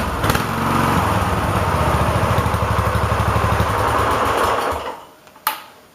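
A racing lawn mower engine runs close by at a steady, buzzing idle with a fast even putter, then cuts off and dies away, followed by a brief clunk near the end.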